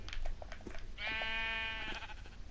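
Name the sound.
sheep bleating in a video game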